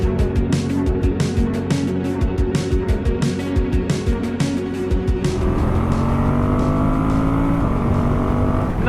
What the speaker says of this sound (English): It never feels strained, the engine at those higher speeds.